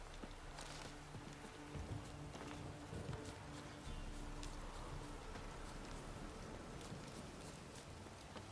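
Steady heavy downpour in The Witcher III video game, a dense constant hiss of rain with scattered patter and faint clip-clop like hoof sounds underneath, continuous and even throughout.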